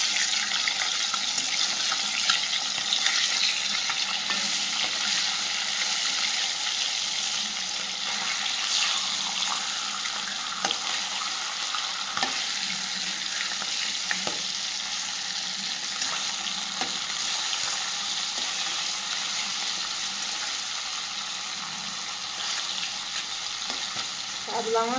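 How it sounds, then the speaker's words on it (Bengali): A medium-sized katla fish fries in a pan with a long, steady, close sizzle and scattered crackles and spatters, with occasional stirring or turning clatter throughout. "মাছটা এক পিট করে ভাজা হয়ে গেছে"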